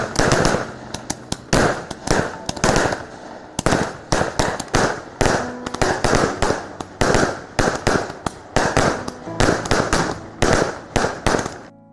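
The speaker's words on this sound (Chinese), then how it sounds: "鞭炮齐鸣，送别的是一位老者" A long string of firecrackers explodes at a funeral in loud, rapid bursts of crackling bangs that go on without a break for the whole stretch, close and sharp.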